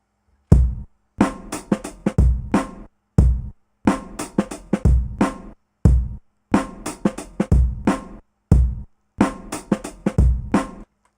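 Chopped sample triggered on an Ensoniq ASR-10 sampler with release set to 20, short punchy stabs in a rhythmic beat pattern, each hit cut off quickly into near silence between chops.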